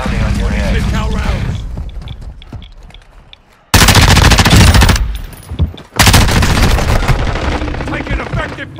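In a tactical shooter video game, sustained machine gun fire erupts in two long, loud, close bursts with a brief gap between them, after a quieter stretch of mechanical clatter and muffled voices.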